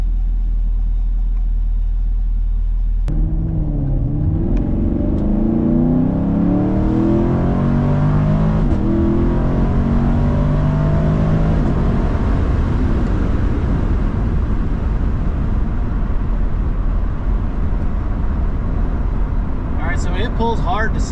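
A 2021 Chevrolet Camaro SS 1LE fitted with an LT2 intake pulls hard at full throttle, its V8 roar rising steadily through the revs with a quick shift, loud and close from the cabin.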